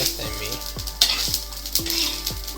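Onion and grated coconut sauté in a hot pan, sizzling steadily while a spoon stirs and scrapes in repeated strokes, close up.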